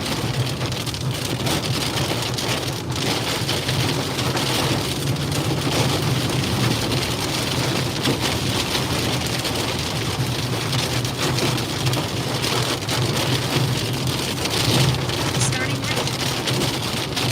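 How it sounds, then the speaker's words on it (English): Heavy rain drums hard in the core of a severe storm during a tornado chase in the Ozarks, a loud, unbroken roar with faint voices beneath it. "hit the core here and get some rain for just a minute"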